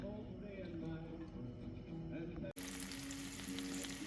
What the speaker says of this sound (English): Okay, so this is nicely sizzling